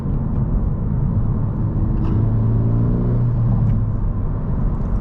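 A 2020 Honda Civic Si, 10th gen with a fresh KTuner tune, drones steadily while pulling under acceleration, its low engine note rising in pitch from inside the cabin over continuous road rumble.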